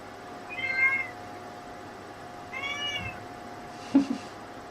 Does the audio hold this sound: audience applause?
no